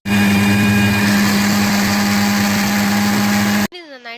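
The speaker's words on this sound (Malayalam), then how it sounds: "ഒരു മിക്സിയിലേക്ക് ഇടുക എന്നിട്ട് നമുക്ക് ഇത് അരയാൻ വേണ്ടി ആവശ്യത്തിനുള്ള വെള്ളം മാത്രം ഒഴിച്ചിട്ട് നന്നായിട്ട് അരച്ചെടുക്കുക" A kitchen mixer grinder whirs loudly and steadily as it grinds mukkutti leaves with a little water for a herbal rice porridge. The motor drones close up and then cuts off, and a voice speaks briefly afterward.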